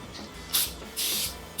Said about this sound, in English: So this is the air filter oil. It's just an aerosol and pretty straightforward. You spray it about 3 inches away from the filter